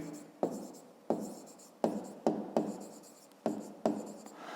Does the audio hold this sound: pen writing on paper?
yes